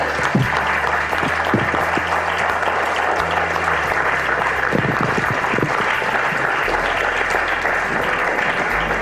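Audience applause for the second runner-up, announced third place, at a big public speaking final in Coimbatore, a dense steady roar of many hands clapping together, loud and continuous throughout.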